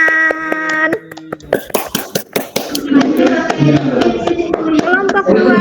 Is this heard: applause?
yes